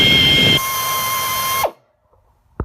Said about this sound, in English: slide it into the piece, and start to drill